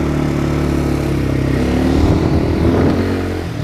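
A 200 cc ATV with an upright engine runs steadily and smoothly nearby, a continuous mid-pitched engine drone with a slight rise in revs toward the end.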